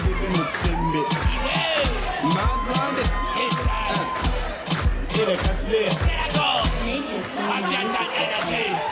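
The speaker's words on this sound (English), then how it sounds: "Let's clap for them as they get onto the stage." A crowd at a Grade 12 graduation luncheon claps in a steady rhythmic beat as graduates walk onto the stage, loud and close, with cheers, whoops and chatter mixed in.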